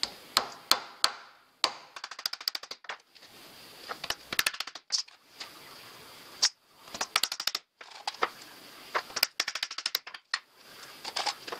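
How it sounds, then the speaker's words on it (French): Sharp metallic hammer blows drive nails while building a rear bumper for a Suzuki Santana Samurai, struck in quick irregular bursts of taps with short pauses between runs, close and crisp. "pour planter des clous, il faut des clous et un marteau"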